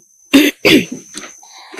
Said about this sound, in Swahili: Utakuwa na kikohozi wewe kinakusumbua